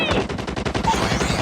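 Rapid bursts of gunfire in a shooter video game, a dense string of loud close shots at a fast rhythm with faint electronic tones in the mix.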